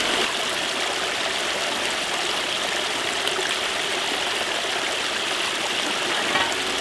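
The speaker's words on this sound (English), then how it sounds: "when the water runs off the edge" Water runs steadily off an edge in a continuous, close, full rushing flow that stays even throughout, with no voices.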